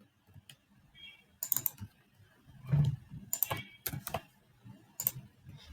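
Sparse keystrokes clack on a computer keyboard as code is typed, irregular single taps and short bursts spread over several seconds, quiet and close.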